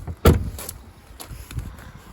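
The front trunk of a Tesla Model 3 Performance is opened with a sharp thunk of the latch and lid, followed by a few lighter clicks and knocks nearby, with no talk.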